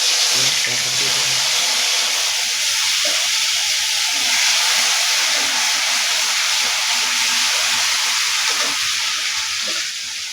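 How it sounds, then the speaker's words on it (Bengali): Ground ginger, garlic, green chili and mustard paste sizzle in hot oil, a loud, steady hiss of frying that runs the whole time, with faint talking underneath. "এখন আমি তেলের ভিতরে মশলাটা দিয়ে দেবো।"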